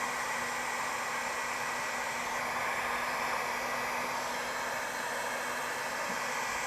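Heat gun blowing steadily on vinyl wrap over a BMW M3 reflector, a constant airy hiss with a faint motor hum, even and unbroken throughout.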